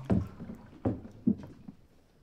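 Wooden rowboat moving on water in Venice, with three or four distinct knocking strokes about half a second apart, close and moderately loud, over a low watery wash.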